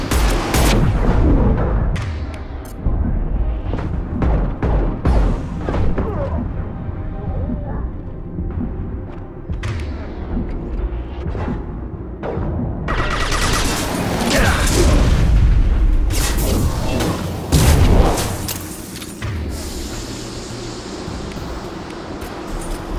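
Heavy gunfire and booming impacts from Mass Effect 2 combat, with sharp repeated shots, a loud cluster of blasts in the latter half and an ongoing rumble underneath.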